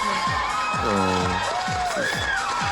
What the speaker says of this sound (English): But they're all clapping.